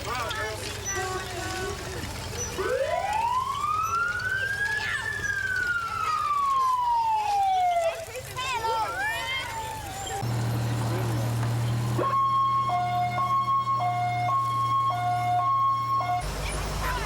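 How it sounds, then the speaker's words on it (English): Wailing sirens sound at a village May Day parade: a long rising and falling wail, then a steady alternating two-tone siren, loud and close, with someone narrating over it. "complete with a parade, a May Queen, and wailing sirens"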